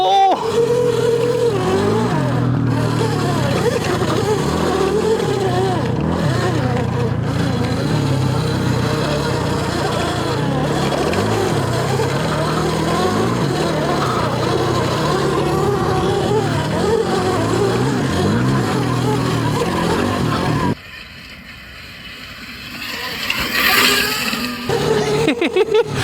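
A 72V electric mini bike ridden outdoors, a steady loud motor whine and buzz with rising and falling pitch for most of the stretch, then a sudden drop to quieter rustling before the motor returns near the end.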